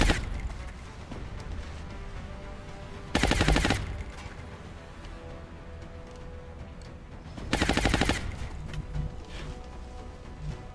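Machine gun fire in a tactical combat video game crackles in two short, loud bursts several seconds apart over a quieter background of game ambience.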